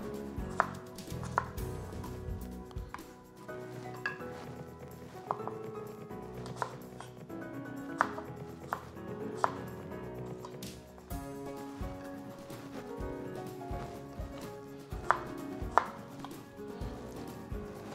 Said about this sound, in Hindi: आप इसे लेंथ वाइज में काटिए और उसके बाद डायगोनल पीसेस में काट दीजिए।